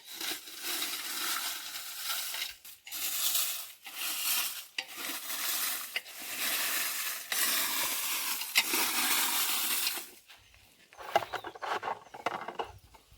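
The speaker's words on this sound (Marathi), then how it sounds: "आता ह्या मिरच्यांना हलवत राहायच्या" Dried red chillies stirred and roasted in an oiled pan, giving continuous scraping and rustling in repeated strokes with brief pauses and a quieter stretch near the end.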